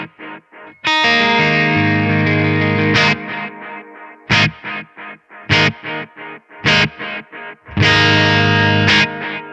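Distorted electric guitar through a Nano Cortex with delay enabled plays sustained chords and short choppy stabs, with repeating echoes trailing each hit, loud and up front.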